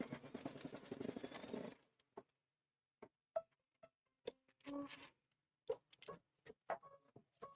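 A sewing machine stitches quilt fabric in a steady, close whirring run for about two seconds, then stops; afterwards there are only scattered faint clicks and handling sounds.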